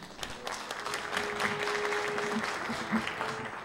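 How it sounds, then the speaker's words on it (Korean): An audience applauds at an intellectual property and value creation conference to welcome a research institute president to the stage for congratulatory remarks. The steady, dense clapping is moderately loud and sustained for several seconds, with no speech over it. "원장님을 박수로 모시겠습니다."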